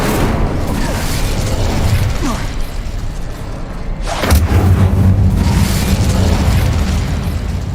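An Incendio fire spell cast in Hogwarts Legacy, a loud roaring burst of flame with rumbling mechanical game sounds that swell midway, no talking.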